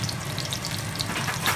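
Pork fries for crispy fried pork in a pan, a dense, steady sizzle with faint popping, close and continuous throughout, with no voices.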